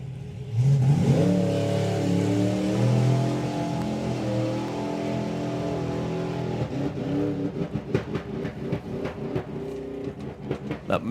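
A drag racing car's engine revs and accelerates loudly, its pitch climbing in rising sweeps, then breaks into rapid uneven popping bursts near the end.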